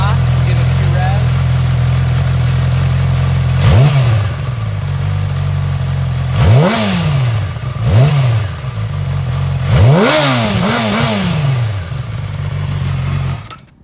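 A Yamaha R6 sportbike with a titanium exhaust idles close by and is blipped through several sharp revs, each rising and falling quickly, with a pair of revs near the end.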